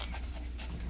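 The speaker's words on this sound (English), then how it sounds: "Random dog that keeps coming to our house." A stray dog near a house makes a brief panting, whimpering sound close by over steady background noise, with no one talking.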